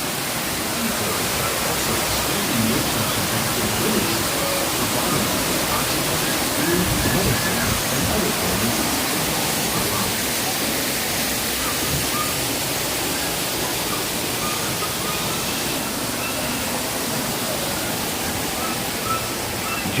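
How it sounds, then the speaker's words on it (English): Waterfalls at EPCOT pour in a steady, even roar of rushing water that stays constant and fairly loud throughout, with faint voices mixed underneath. "These waterfalls are going."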